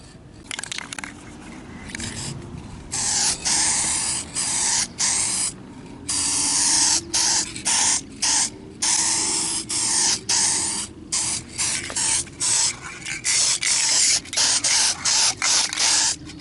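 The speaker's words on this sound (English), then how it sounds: "Make sure that the paint sticks to the plastic you're spraying it to." Hammered black spray paint hisses out in repeated short bursts onto a plastic dash bezel, close and loud, with brief pauses between each blast.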